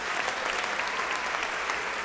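Church congregation applauding the Lord during a sermon, a full, continuous burst of many hands clapping at once, steady and fairly loud throughout, with no speech on top.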